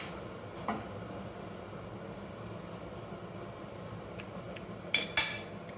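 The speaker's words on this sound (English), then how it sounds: "I'll grab a couple of little spoons because I need to check for seasoning" Small spoons clink in a kitchen while Cullen Skink, a Scottish fish, potato and onion soup, cooks: a soft tap early on, then two quick bright metallic clinks near the end over a low, steady background hum.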